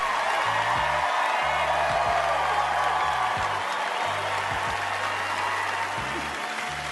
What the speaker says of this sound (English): the crowd gave her the standing ovation she deserved